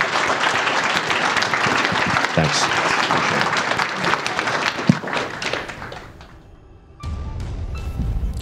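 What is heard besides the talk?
audience applause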